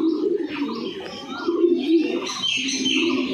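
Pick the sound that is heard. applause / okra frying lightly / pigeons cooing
pigeons cooing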